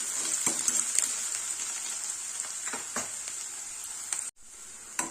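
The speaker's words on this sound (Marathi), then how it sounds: "यामध्ये आपण कांदा घालणार आहोत सो कांदा छान आपल्याला असं परतून घ्यायचं आहे" Chopped onion sautéing in hot oil in a pan, a continuous close hiss and sizzle with faint scraping stirs, briefly cutting out near the end before resuming.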